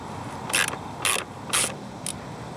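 A ratchet turns bolts off a car's blower motor in a noisy AC heater fan repair, giving four short, close metallic clicking bursts at a steady pace over quiet background noise.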